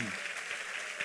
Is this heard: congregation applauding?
yes